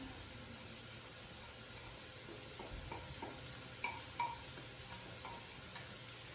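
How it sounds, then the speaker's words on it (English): About eight ounces of mushrooms fry in roughly three tablespoons of olive oil, giving a soft, steady sizzle with faint stirring clicks and taps from a utensil in the pan. "So I'm going to add another tablespoon of oil. So all in all, I've used about 3 tablespoons of the olive oil. I'm going to put in my 8 ounces of mushrooms."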